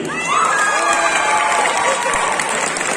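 Cosplay contest crowd at Art To Play Nantes 2021 cheering and applauding loudly for a Skull Kid cosplayer, with children's shouts and whoops rising over steady clapping throughout.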